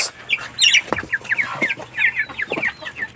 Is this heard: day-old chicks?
yes